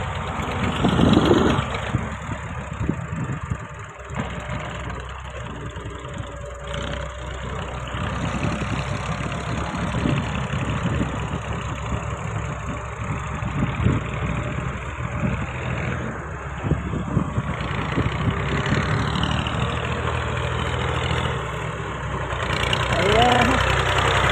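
A tractor engine idles steadily at a site where an excavator is loading soil into trolleys, likely in Pakistan. The rumble is loud and continuous, with knocking texture and some voices in the background.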